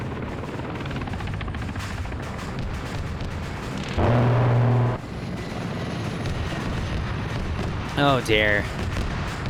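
Mi-24 helicopter gunship attacking in a military video game: a steady rotor rumble broken by a loud, roughly one-second burst of fire, with a short sharp crackle later and voices talking throughout.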